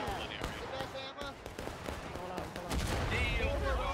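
Artillery fire in the Ghosts of Antietam Civil War game comes as muffled booms and crackling volleys, with a heavy rumble building near the end, under a voice talking.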